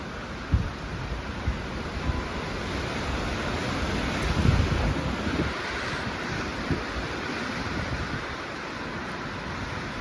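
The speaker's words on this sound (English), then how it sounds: "Huge, heavy pushes of wind." Strong wind roars outdoors in a steady, broadband rush, with heavier surges around the middle and close buffeting on the microphone; no one speaks.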